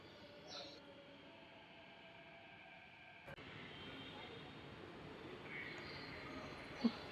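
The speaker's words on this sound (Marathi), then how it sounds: "आता आली मेट्रो." A metro train pulls into a station on a Thane to Andheri trip, its steady rumble swelling into a louder, broad roar halfway through under faint background murmur.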